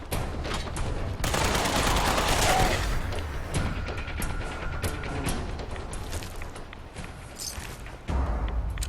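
A modified gun from Fallout 4's Far Harbor add-on firing repeatedly, loud dense bursts of gunfire over steady game ambience, with a sustained blast near the start and scattered mechanical clicks.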